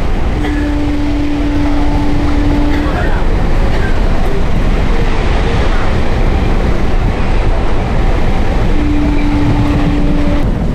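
A train runs along the Sealdah–Gede line in the rain, a loud steady rumble filling the whole stretch, with faint tonal whines rising above it near the start and end.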